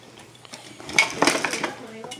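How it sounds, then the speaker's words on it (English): A slime mixture is stirred in a container, producing close, brief clinks and scraping knocks against its sides, with a voice speaking faintly underneath. "Now stir. Get it all stirred up really good."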